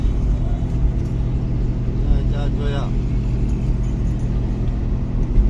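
A car carrying a group of friends on a road trip near the Indus mountains in Jamshoro, Sindh, heard from inside as a steady engine and road rumble, with voices talking faintly over it.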